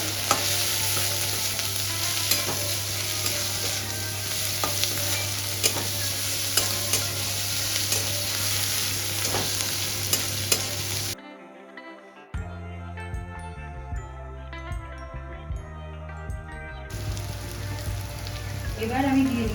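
Grated garlic frying in a pan for Bengali aar fish kalia, a loud continuous sizzle with stirring scrapes, interrupted by a brief quieter stretch with background music before the frying returns.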